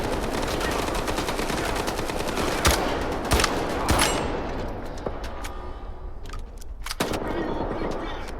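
Gunfire in S.T.A.L.K.E.R. 2, rapid automatic bursts with sharp individual shots standing out, continuous fire that thins out and returns in spaced cracks toward the end.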